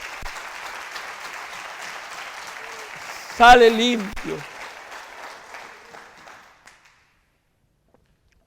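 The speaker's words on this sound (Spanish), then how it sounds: "Vamos a dar una ofrenda de palmas." A church congregation gives a short burst of applause, close and fairly loud, rising suddenly and tapering off over a few seconds after a man's spoken line, then silence.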